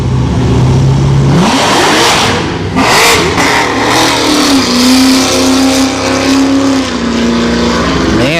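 A drag racing car launches and accelerates hard down the strip at Orlando Speed World, a loud, close engine roar rising in pitch through the gears for several seconds.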